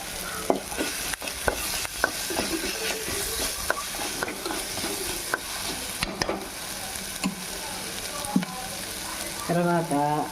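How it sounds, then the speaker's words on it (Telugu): Egg potato kurma ingredients with fresh coriander fried and stirred in a pan, a constant close sizzle broken by regular scraping strokes and clinks of the spoon against the pan. "మంచిగా ఫ్రై చేసుకుందాం."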